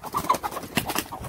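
A backyard flock of chickens clucks and squawks up close in a busy, overlapping chatter of short calls.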